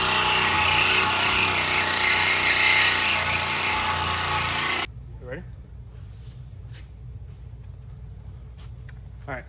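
A Sawzall reciprocating saw cuts hard and loud for about five seconds during a Cummins and Rolls-Royce engine build, then stops abruptly. Quieter shop background follows, with faint voices.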